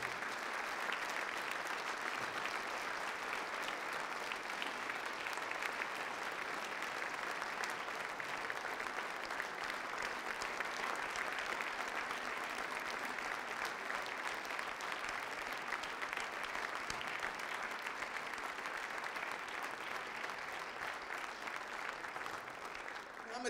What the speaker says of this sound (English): give them a hand clap of praise for the sacrifice and for being here tonight